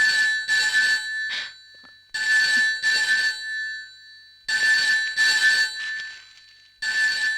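A telephone rings in repeated bursts, a bright electronic ring sounding in paired pulses with short pauses between them, loud and close with no talking.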